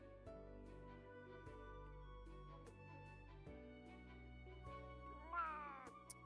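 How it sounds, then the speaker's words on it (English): A cat meows over sustained background music in the Arknights game. The meowing is faint and comes in short calls, with one rising wail near the end. "keep your meows down"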